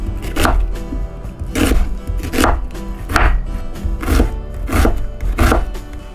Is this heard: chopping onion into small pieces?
yes